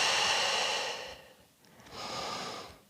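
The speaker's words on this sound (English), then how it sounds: "Taking some big breaths." Deep, slow breathing during a post-run Pilates hip stretch: a long, loud exhale, a short pause, then another steady breath, close and alone.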